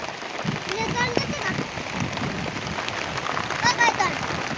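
Rain patters steadily on a surface during travel with pack horses near Mahad, Maharashtra, a dense continuous hiss with scattered drops, and voices speak faintly beneath it.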